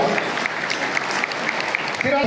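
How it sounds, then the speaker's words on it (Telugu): Steady crowd applause at a Kargil Vijay Diwas event, dense and continuous, with voices audible under the clapping. "గట్టిగా చప్పట్లతో స్వాగతిద్దాం."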